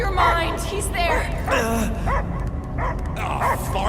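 Dog barking in the Guardians of the Galaxy video game, several short yips and bow-wows in quick succession, mixed with voices and game sound.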